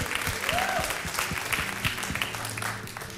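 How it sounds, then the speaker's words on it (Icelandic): An audience at an evening entertainment event claps in sustained, dense applause of many hands. A voice briefly sounds through it. "Klappum fyrir honum."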